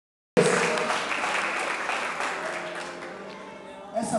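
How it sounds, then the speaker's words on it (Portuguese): A family audience at a Mother's Day play bursts into applause, a steady broadband wash of many hands clapping that starts abruptly, holds, and slowly tapers over a few seconds with a brief swell at the end. "Uma salva de palmas para eles."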